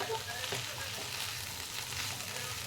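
Carrots and peas with ghee being stirred in a pan for a vegetarian curry, a steady close sizzle with soft scraping stir sounds, no talking.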